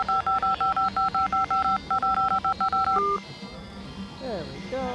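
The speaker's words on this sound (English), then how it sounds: "We're gonna dial home some scammers." A rapid string of loud telephone touch-tone dialing beeps, about twenty evenly spaced tones, placing a call to a scammer line, followed by a brief line tone and a voice speaking.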